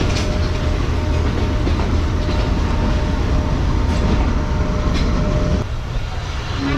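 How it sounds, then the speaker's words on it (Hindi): Pakistan Express train rolling slowly from the yard toward a station platform, a loud, dense rumble and rattle of wheels and carriages with faint clicks, easing slightly in intensity near the end. "आहिस्ता आहिस्ता ट्रेन हमारी यार्ड से उतरते हुए प्लेटफॉर्म पर लग रही है।"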